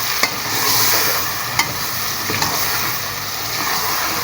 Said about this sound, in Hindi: अब टमाटर जो मैंने काटे थे वो डाल दिए। अब इसको भूनना है।